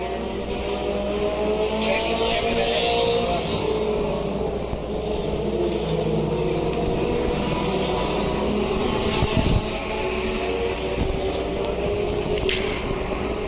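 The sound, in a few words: race cars racing at Highland Rim Speedway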